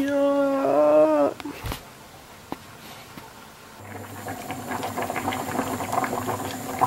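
Pan of rice boiling on a home stove, a steady close bubbling and rattling that builds over several seconds, following a brief burst of voices and a few knocks at the start.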